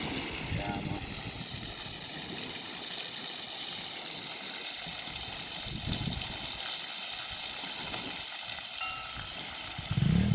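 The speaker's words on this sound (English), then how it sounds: "Just stay tuned and watch them fry up" Chicken frying in oil on a Jamaican beach, a loud continuous sizzle and bubbling that carries through the whole stretch, with voices faintly in the background.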